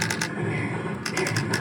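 The buttons and joystick of an Arcade1Up Terminator 2 arcade cabinet rattle off a rapid burst of sharp plastic clicks, which pause briefly and then resume in quick clusters, loud and close.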